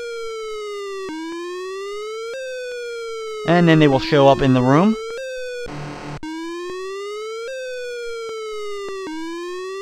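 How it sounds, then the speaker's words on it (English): Rising and falling electronic police siren from the Maniac Mansion video game, a loud steady wail repeating in regular cycles, briefly interrupted midway by someone talking and a burst of game noise. "you will hear the sound of the Meteor police arriving"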